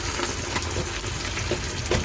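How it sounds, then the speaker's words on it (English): Battered fries frying in hot oil: a steady, close sizzle with bubbling and crackling, continuous and fairly loud with no voices. "And it is just bubbling away."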